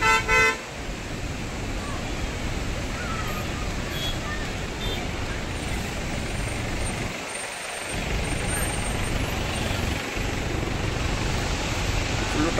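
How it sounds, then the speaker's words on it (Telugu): Traffic jammed on the road near Srisailam dam produces a steady heavy rumble of idling trucks and cars, with a short horn toot at the start and a brief break in the engine drone midway. "ఇక్కడ ఫుల్ ట్రాఫిక్ జామ్"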